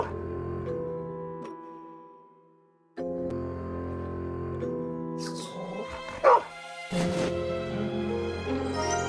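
A dog barks and whimpers in the Dark City: Amsterdam video game, its yips and barks set against a sustained musical background, with a louder burst partway through.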